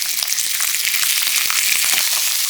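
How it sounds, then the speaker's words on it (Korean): Thin-sliced pork belly fries loudly in olive oil in a pan over medium-low heat, a dense, bright, continuous sizzle with rapid crackles and a few stirring taps, close and with no one talking. "노릇노릇 맛있는 색깔이 돌 때까지 볶아주고요"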